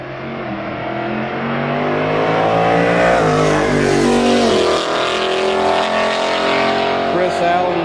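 A Chevrolet Corvette C8 race car runs on the track at Summit Point during a morning session, its engine a loud sustained roar rising in pitch as it passes close by, with a commentator talking over it.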